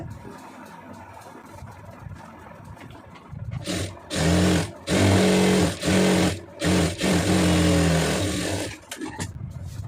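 A sewing machine stitches a blouse in several short, loud bursts of motor running, separated by brief pauses, after a quiet start.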